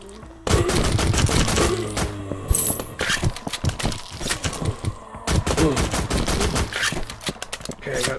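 Rapid automatic gunfire in a Minecraft-style Call of Duty Zombies game, with dense bursts of shots and mechanical clicks going almost nonstop at close range while a player exclaims over the shooting.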